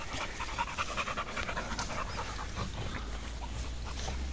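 A dog that has just climbed out of water pants rapidly and steadily close by, with faint outdoor background noise and no voices.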